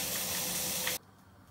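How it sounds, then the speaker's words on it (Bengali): Fish frying in hot oil in a heated wok gives a loud, steady sizzling hiss that stops abruptly partway through, leaving near silence. "মাছটি সব ভাজছি"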